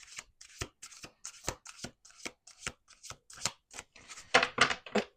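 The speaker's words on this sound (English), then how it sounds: "let's do one more shuffle" A deck of cards is shuffled in quick repeated riffles, a rhythmic run of crisp flutters with short pauses between them, close and fairly quiet with no talk.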